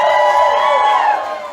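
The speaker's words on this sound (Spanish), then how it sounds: "Y si ponen un grito de júbilo." A church congregation lets out a burst of joyful shouting and cheering during a worship service, loud and close, a brief swell of overlapping voices that fades after about a second.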